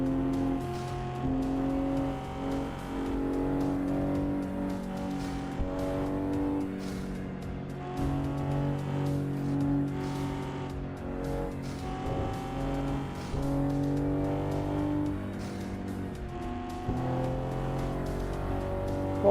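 A Corvette race car engine in a sim racing game roars and revs continuously, rising and falling through gear changes, loud and close with other cars faintly mixed in.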